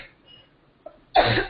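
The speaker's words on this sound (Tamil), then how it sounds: "இருமல் வருது உங்களுக்கு." A single sharp cough bursts out after a near-silent stretch, loud and close, with no talking around it.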